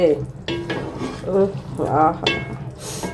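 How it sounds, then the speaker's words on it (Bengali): Meat cooking in a pan is stirred, with scraping and sizzling under a fairly loud voice running throughout. "মাংসটা হচ্ছে আবার একটু নেড়ে চেড়ে দিলাম"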